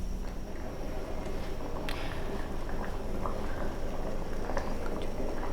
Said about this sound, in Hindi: इसको मीडियम फ्लेम पे मैं रख दूँगी ताकि हमारी जो इसमें खजूरें हैं वो गल जाएं